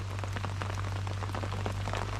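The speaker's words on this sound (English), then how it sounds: "It's raining." Rain falls steadily beside a willow at a fishing swim, many small droplet taps scattered over a constant hiss, close and moderately quiet, with a steady low hum running underneath.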